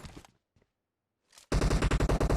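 Automatic weapon fire in the battle-royale video game PUBG: a few faint shots, a short pause, then a loud rapid burst of about eight evenly spaced gunshots with no talking.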